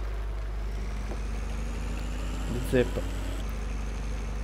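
A tractor engine from the Farming Simulator 17 video game idles at a steady mid-pitched drone throughout, with a brief louder bump partway through and a voice speaking over it.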